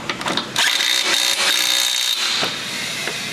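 A castle nut is tightened onto a 2001-2005 Honda Civic strut and coil spring assembly, giving a continuous close grinding, rasping run of a few seconds, loud and unaccompanied by talk.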